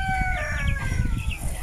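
A hen with her chicks in a poultry yard: high, thin peeping from the chicks runs over a close, steady background of low clucking and scratching, continuous throughout.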